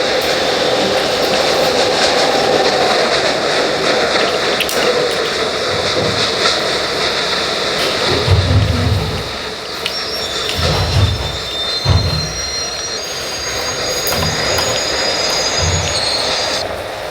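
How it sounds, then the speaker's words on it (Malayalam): A train passes close by on railway tracks: a loud, continuous rumble of rolling wagons, with high metallic wheel squeals and heavy clanks around the middle. A voice speaks briefly. "ട്രെയിൻ വരുന്നു ഗൈസ്."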